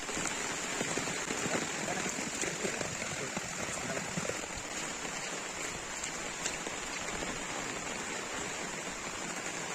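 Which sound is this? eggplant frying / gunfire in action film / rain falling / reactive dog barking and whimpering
rain falling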